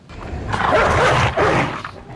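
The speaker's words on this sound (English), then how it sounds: "A demon dog from hell that sounds like a T-Rex with glowing red eyes" A demon dog from a horror movie lets out a deep, loud, rumbling growl-snarl in two swelling bursts with a short break between, close and dramatic.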